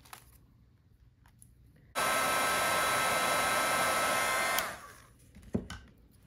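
A heat tool blasts a steady loud whooshing roar for a few seconds while drying ink layers on a card, starting abruptly and winding down, with quiet handling clicks before and after.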